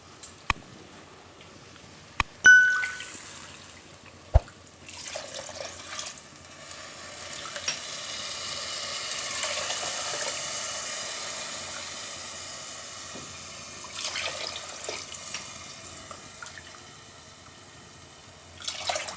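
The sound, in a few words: pouring water into mixed dal and rice for khichdi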